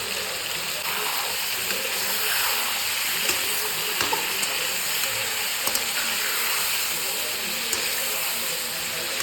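Local chicken frying in hot oil with salt and turmeric: a steady sizzling hiss, continuous and fairly loud, with small crackles throughout.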